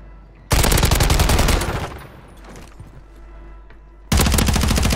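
Rapid, loud bursts of DTIR 30-06 rifle gunfire in Warzone 3, two long volleys separated by a quieter stretch of ambient game noise, close and dominant.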